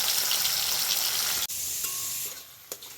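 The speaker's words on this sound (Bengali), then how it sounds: "আগে থেকে কাটা টমেটোগুলো দিয়ে একটু ভালো করে ভেজে নিচ্ছি।" Chopped tomatoes fry with onions in a pan, a loud continuous sizzle interrupted by a sharp knock midway, then continuing slightly quieter with a faint tonal ring and a late clatter; no one speaks.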